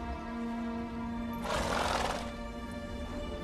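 Roach the horse from The Witcher 3 lets out a loud, breathy neigh of about a second, rising over a steady game music drone and then fading.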